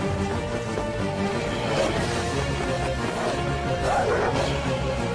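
Hunting hounds barking in a chase, a steady layered din of yelps and barks heard fairly close, with other noise blending underneath throughout.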